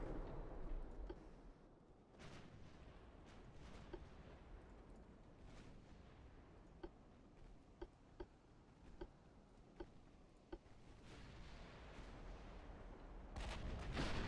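Naval artillery in the warship game Ultimate Admiral Dreadnoughts, a German battleship's big guns firing: sharp distant booms and scattered reports punctuating a continuous rumbling battle ambience, with heavier blasts near the end.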